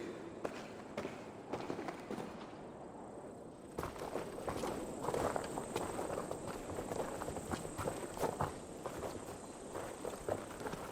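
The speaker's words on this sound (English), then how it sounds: "Hold, both of you. You hear that? Soldiers, Edwin's here." Steady crunching footsteps of several soldiers approaching in a video game, with a faint constant high hum and a busy rustling background that grows louder partway through.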